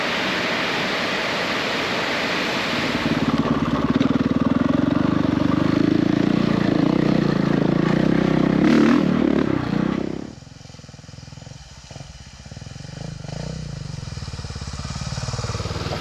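A motorcycle engine drones steadily for about ten seconds on a dirt track, the Cape York Telegraph Track, then drops away abruptly, leaving a quieter rough rumble and clatter.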